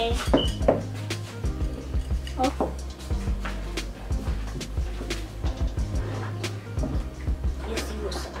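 Utensils clatter and scrape against a bowl as clear glue and other slime ingredients are stirred together, a busy run of clinks and knocks throughout with people talking over it.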